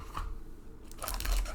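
Plastic and cardboard packaging of a Pokémon Elite Trainer Box being torn and crinkled open, a soft rustle building into louder crackling tearing near the end, close up.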